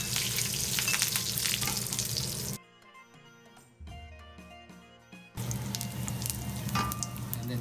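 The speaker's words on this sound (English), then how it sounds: "So I'm putting my" Curry leaves sizzle and spatter loudly in hot oil for a Chicken 65, a dense crackling fry that cuts out abruptly in the middle and then returns just as strong.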